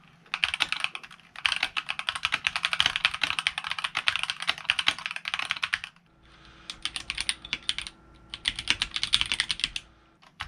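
Rapid clacking keystrokes on a K617 keyboard fitted with new keycaps and acoustic mods, dense bursts of close, crisp typing broken by a short pause before resuming at the same brisk pace.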